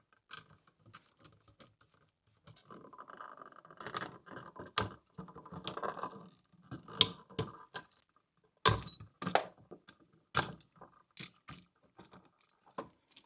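Small metallic clicks, taps and scrapes as wires are pried and unhooked from the screw terminals of an old electrical outlet, sparse and close with quiet pauses between.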